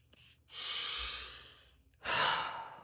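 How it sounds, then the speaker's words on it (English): Close, clear breathing through the nose while wearing an Intake Breathing nasal aid: two airy breaths separated by a short pause, with no talking. "I'm able to breathe better through my nose, and I can keep my mouth closed."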